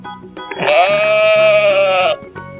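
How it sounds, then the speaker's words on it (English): A single loud, sustained sheep bleat lasting nearly two seconds, wavering slightly in pitch, with a quiet background and no talking. "Sheep."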